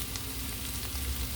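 Onions and peeled potatoes fry in a large batch of butter with a little olive oil for home fries, a soft, steady sizzle heard close up and alone.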